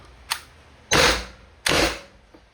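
Umarex HDR68 cal.68 home defense revolver firing rubber balls, with two sharp loud close shots about three-quarters of a second apart, each decaying briefly, after a fainter click.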